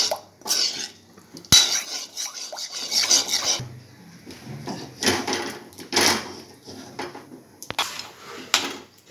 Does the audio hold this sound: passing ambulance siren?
no